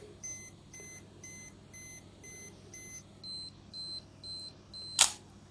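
An Olympus OM-4 film camera's self-timer runs, giving evenly spaced high beeps that quicken toward the end and finish with a sharp shutter click, close and quiet over a low room hum with no talk.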